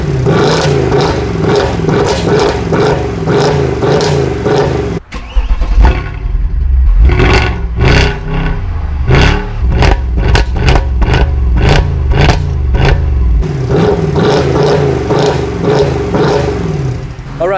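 Mercedes C63 AMG V8 engine revving hard, loud and close, with repeated sharp throttle blips and rising roars over a steady idle, no talking.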